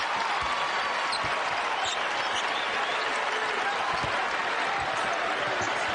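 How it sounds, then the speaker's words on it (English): A college basketball arena crowd in Marquette vs St. John's stands and roars in a loud, continuous wall of cheering, with a ball bouncing on the court underneath. "a story for this crowd that's on their feet right now"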